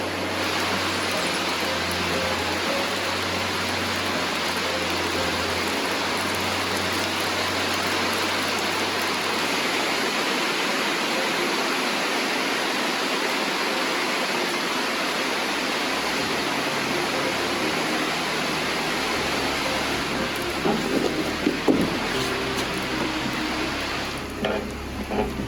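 Heavy rain pours steadily and loudly throughout, a dense continuous hiss with a low rumble early on, while faint handling noises and soft knocks creep in near the end; no voices are heard.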